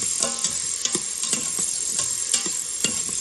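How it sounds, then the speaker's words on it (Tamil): Chopped onions and tomatoes sautéing for sambar, a steady sizzle in the pan with repeated scraping stirs of a spoon at an irregular rhythm, close and fairly loud, no voices. "நமக்கு வெங்காயம், தக்காளி எல்லாமே வந்து வதங்கிட்டு இருக்கு."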